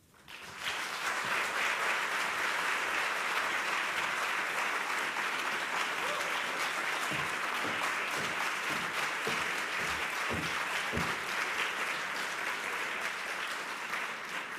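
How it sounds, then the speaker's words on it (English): Sustained audience applause at a 2014 summit in the capital where a U.S. congressman speaks, dense steady clapping from a large crowd lasting the whole stretch, loud and continuous with a few low thumps near the end. "Let's give him another round of applause."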